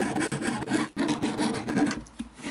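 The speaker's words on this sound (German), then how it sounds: "Das heißt, die muss ich jetzt gerade noch da dran feilen." A hand file rasps at a corner radius on a board, making quick back-and-forth scraping strokes, close and fairly loud, with a short pause partway through.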